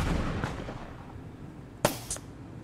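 A couple of sharp gunshots ring out in the border-checkpoint video game Papers Please, a loud crack followed shortly by a second, weaker report over a low background hum.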